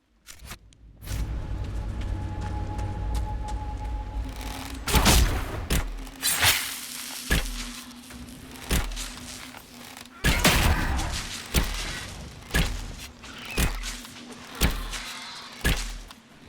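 An explosion-shot attack in the fantasy video game Dragon Age: Inquisition gives a burst of sharp blasts and impacts, followed by repeated thumping hits at a steady pace, loud against quieter game ambience.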